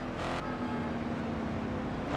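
A Ford SVT Cobra engine in the Ford Racing 2 video game drones steadily at a sustained pitch under a faint game backdrop, with no talk.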